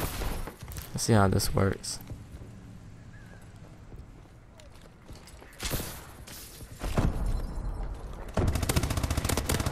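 Gunfire in the multiplayer video game Call of Duty Advanced Warfare, with someone talking briefly early on, then loud bursts of shots in the second half, the last burst sustained.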